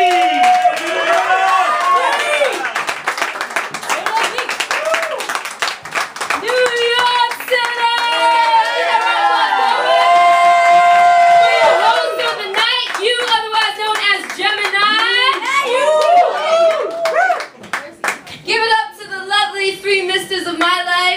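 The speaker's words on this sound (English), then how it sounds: "Put your hands together for a friend of the inspired word, Britta!" Loud, continuous clapping from a spoken word poetry event audience, with an amplified host's voice speaking over it throughout.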